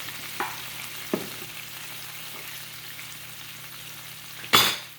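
Creamy lemon basil chicken moved from the pan onto a plate, with a couple of soft utensil taps and a louder scrape near the end over a low steady hum.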